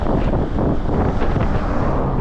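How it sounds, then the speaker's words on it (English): Strong wind buffets the microphone on a mountain top during a bike ride near Prospect Park and Haledon, New Jersey, a steady loud roar with gusty low rumble throughout and no voices. "Well, we're on top of the mountain, so of course we're gonna get wind."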